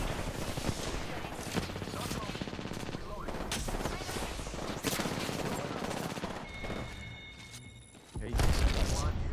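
Rapid gunfire in a video game shooter, dense bursts of automatic shots and booms filling the mix, with a player talking quietly under the shooting.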